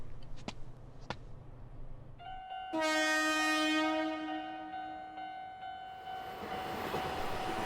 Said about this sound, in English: One of these days, that train's gonna trap us.